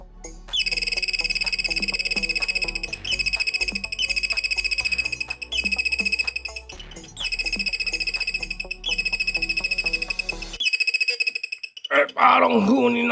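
Repeating electronic bird chirps from a transistor circuit, sharp and tonal in rapid trills, play loud and steady for several seconds before a brief voice comes in at the end.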